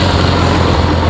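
A 1959 AJS Model 31 motorcycle's 650cc parallel twin engine, fed by a single Amal monoblock carburetor, runs with a steady low rumble throughout, loud and close, with no talking.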